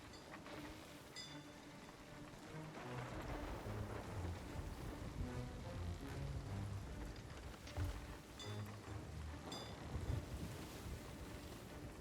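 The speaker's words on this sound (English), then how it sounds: "Storm, would you fuck the hell off at least, please?" A thunderstorm with rain in the video game Sea of Thieves: steady, faint rain and wind wash against the sea and a boat, continuous throughout with no talking.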